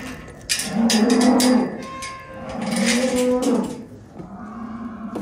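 A mother cow moos loudly and close by in two long drawn-out calls, with clanking of farm gear and a short rumble in between.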